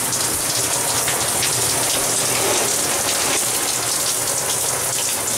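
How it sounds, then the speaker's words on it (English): A steady downpour of rain drums on surfaces nearby, loud and unbroken throughout. "Still raining. It's a raining storm."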